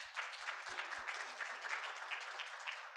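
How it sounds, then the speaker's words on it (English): Steady applause from an audience at a community mayors' breakfast honoring MLK, a dense wash of many hands clapping at moderate distance, continuous for the full three seconds with a few sharper claps near the start. "Round of applause."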